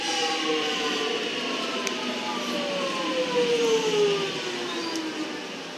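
A Metro train bound for Glen Waverley pulls away from Holmesglen station platform 2 with a rising electric motor whine, gliding tones sweeping upward over a steady rolling hum, fairly close.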